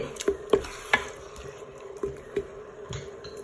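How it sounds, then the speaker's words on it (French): Bolognese stirred in a Cookeo cooker: a series of soft wet squelches and spoon scrapes at an irregular pace, close and fairly quiet over a low background hum. "Je vais mélanger tout ça."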